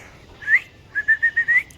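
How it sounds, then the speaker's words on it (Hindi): A person whistles to call a rabbit: one rising whistle, then a quick run of five short, even whistled notes, fairly close and clear over a quiet background. "अभी मैं सीटी बजाऊँगा"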